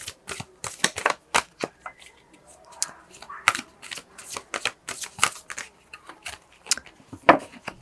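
Repeated crisp riffling and slapping of tarot cards being shuffled, close and fairly quiet, in irregular bursts with short pauses between.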